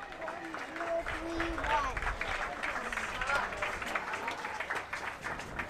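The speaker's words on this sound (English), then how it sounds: "He'll get a round of applause as he heads back to the dugout." Crowd at a high school baseball game between St. Francis and Bellarmine applauding a departing pitcher, a steady spread of clapping and cheers across the stands beneath a commentator's voice.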